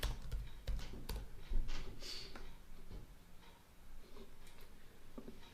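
Keys clatter in short irregular bursts while a field name is typed on a computer keyboard, quiet and close, with no talking.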